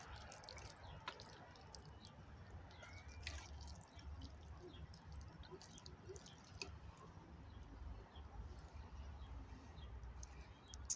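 Morning glory seeds being watered produce faint, soft dripping and wet patters scattered over a low background rumble, with no talking.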